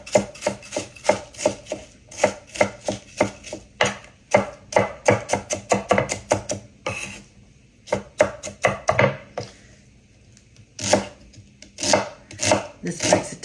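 A knife chops an onion small on a cutting board in a home kitchen, with quick runs of crisp, close taps, a few brief pauses, then more bursts of chopping.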